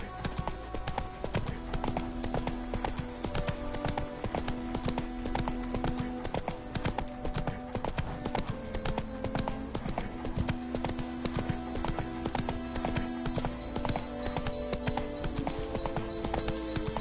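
Roach, the horse in The Witcher 3, clip-clops steadily across the ground in a continuous, even hoofbeat rhythm, with game music and ambience beneath the close, loud footfalls.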